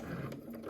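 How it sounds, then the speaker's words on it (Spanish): A sewing machine runs slowly, stitching a seam on a cosmetic bag with a soft, rapid mechanical whirr and ticking, brief, close and quiet. "me voy despacio para asegurarme que la costura esté perfecta y dejar que la máquina misma va moviendo"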